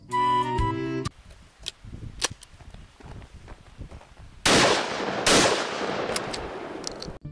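Shotgun blasts in a video game: several sharp, loud reports, the first few spaced apart, then two heavier bursts with trailing noise, heard alone with no talk.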